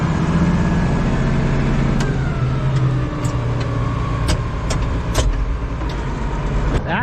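A tractor runs a Dyna Drive tiller with two sets of tines in a garden bed, a loud steady engine drone with a low rumble and occasional sharp clicks and knocks from the working tines.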